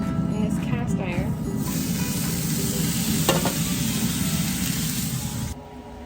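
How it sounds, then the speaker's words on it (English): Tri-tip searing in cast iron on a Traeger grill, a loud continuous close sizzle that carries on steadily and cuts off near the end, with a voice heard faintly underneath. "I have my tri-tip sitting on some cast iron in there, and it's gonna sear on one side for 5 minutes"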